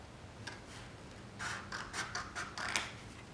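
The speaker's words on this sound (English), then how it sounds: "Now I'm going to cut everything out." Scissors snip through cardstock pieces in a string of close, crisp cuts that grow more frequent and louder in the second half, with no talking.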